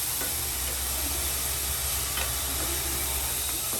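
Food frying in shallow cooking oil until golden brown, a steady close hiss and sizzle holding evenly throughout, with faint clicks and no talking.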